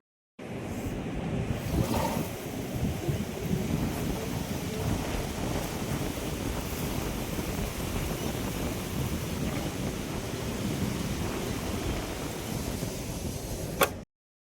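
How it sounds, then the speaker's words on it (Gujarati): Strong wind howls and roars steadily past a room window during a storm, a continuous loud rush lasting the whole stretch with no voices. "પવન કેવા સુસવાટા બોલાવતો હતો ને, ઈ હું મારા રૂમની બારીએથી સંભળાવું."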